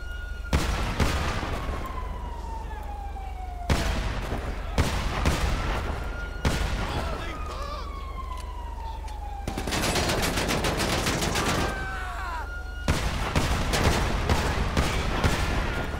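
Bursts of .44 Magnum revolver fire in GTA 5, several loud volleys of sharp, rapid shots separated by short gaps, with a police siren wailing underneath.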